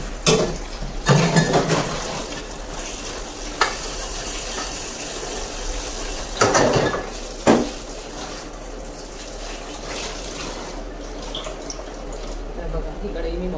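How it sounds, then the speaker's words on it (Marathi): Kadhai and other utensils being washed at a kitchen sink, metal pots clattering and clanking in sharp bursts over running water, close and fairly loud. "प्लीज भांड्यांचा आवाज इग्नोर करा"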